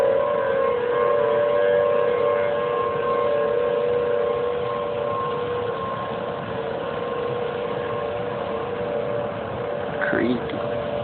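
A civil defense tornado siren wails steadily over a city during a tornado outbreak in Memphis, a sustained loud tone holding throughout with background voices audible beneath it.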